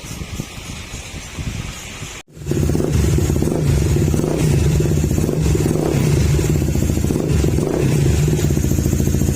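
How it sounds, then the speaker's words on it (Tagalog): A Honda ADV160 scooter engine idles after an ECU remap, starting with a sudden jump from a quieter hum to a steady, low, even rumble that holds close and constant. "maandar na yung unit. Yan, tahimik yung makina niya."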